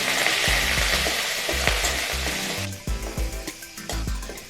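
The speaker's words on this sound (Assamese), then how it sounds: "মই জুইটো কমাই লৈ ভাজিছোঁ।" Cloves, cardamom, cinnamon, five-spice seeds and curry leaves frying in oil over lowered heat, a continuous sizzle with repeated stirring scrapes and knocks of a utensil in the pan, close and without talk.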